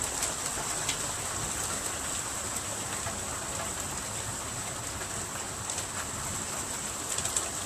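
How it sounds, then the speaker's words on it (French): Small hailstones falling during a spring thunderstorm in the Rhône-Alpes, a dense steady patter that stays even and continuous throughout, with a faint high hiss over it and scattered sharper ticks near the end. "Ah, c'est des petits grêlons."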